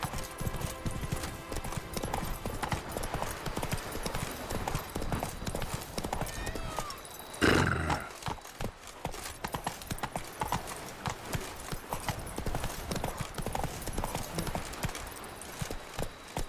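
Roach, the horse in The Witcher 3: Wild Hunt, gallops with rapid, continuous hoofbeats throughout, swelling into a louder burst midway, with faint voice sounds in the background.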